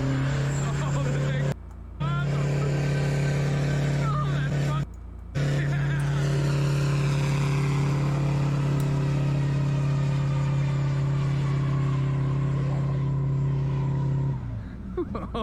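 A voice imitates a big V8 engine revving, a sustained growling drone held for long stretches with two brief breaks, loud and close while he plays Kerbal Space Program.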